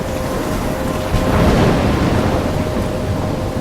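A thunderstorm in the video game Life Is Strange: heavy, continuous rain and wind with a deep rolling thunder swell in the middle, loud and with no voices.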